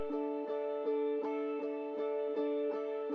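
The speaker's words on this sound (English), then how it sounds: "And there is another guitar building up some tension." Remix guitar part plays repeated sustained chords in a regular pulse, building tension, heard alone at a soft level.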